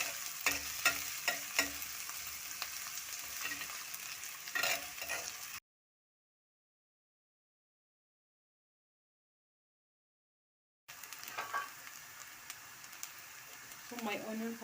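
Onions fry in a pan for creamed kunde, a close, steady sizzle with stirring scrapes, broken by a stretch of dead silence midway before the frying resumes.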